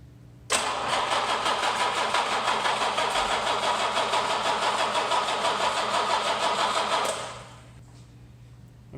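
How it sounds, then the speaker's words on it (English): A 1967 Jaguar E-Type fitted with a junk E-Type motor cranks and fires for its first start, a loud, steady mechanical roar lasting about six seconds before dying away. "Gonna do a first start of the junk E-Type motor in my car."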